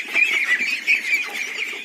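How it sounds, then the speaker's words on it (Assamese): A flock of 41-day-old ducklings on a farm makes a dense, continuous chorus of overlapping peeping calls, steady and fairly loud, with no talking. "মোৰ ইয়াত 41 ডেজৰ হাঁহৰ পোৱালি হয় আৰু গ্ৰথবিলাক আপোনালোকে চাওক।"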